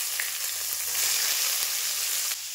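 Chopped onion hits hot oil tempered with cumin seeds and bay leaf, giving a steady, close, bright sizzle and crackle with no voices.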